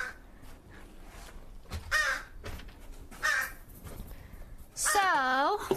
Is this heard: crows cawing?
yes